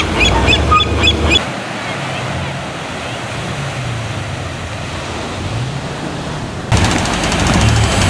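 Ocean surf on the beach at Tijuana: a loud, steady broadband roar of breaking waves, heavier at the start and end with a calmer wash between, close and dominant.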